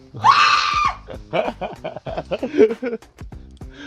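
A person gives a loud, sustained scream near the mic, followed by excited talking from others.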